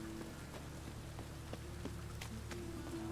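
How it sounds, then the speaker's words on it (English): Steady rain falls in The Witcher 3 video game, a continuous even patter of drops filling the scene with a few sharper ticks standing out, with no voices heard. "Rain again."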